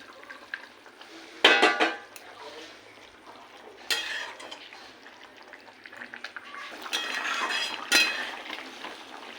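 Sliced eggplant strips added to a bubbling Bengali fish curry with potatoes, giving soft clinks of a spoon against the pot, a few stirring scrapes and a gentle simmer close by with no talking.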